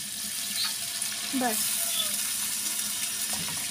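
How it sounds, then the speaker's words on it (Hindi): Water poured into a cooking pot with tomatoes for chana pulao, a steady splashing gush over a continuous hiss, with someone speaking briefly and birds chirping in the background. "थोड़ा सा मैं पानी भी साथ डाल देती हूँ ताकि टमाटर और थोड़ी सी"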